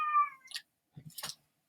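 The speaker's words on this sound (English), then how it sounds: "My cat wants to get out of the room." A cat meows twice indoors, a clear drawn-out cry followed by a shorter, rougher one, near and alone.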